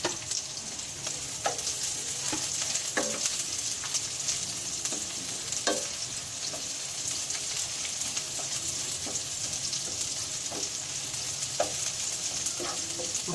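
Onions sizzling and frying in a pan while chicken and vegetables are cooked for dinner, a steady close hiss with occasional light stirring clicks, no talk.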